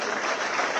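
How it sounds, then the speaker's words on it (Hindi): Loud audience applause at a felicitation ceremony at the Chief Minister's house, a dense, steady roar of many hands clapping together throughout. "एक बार जोरदार तालियां।"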